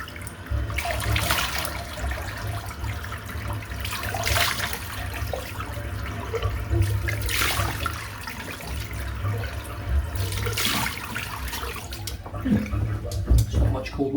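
Water runs steadily from a tap as a continuous, moderately loud splashing wash that swells and eases over several seconds, with no pauses.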